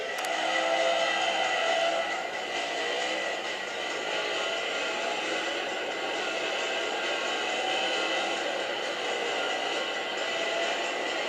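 Race-car engine sound from Need for Speed played on an HTC Jetstream tablet: a steady, continuous high-pitched engine drone with faint tire and road noise, alone and without talk.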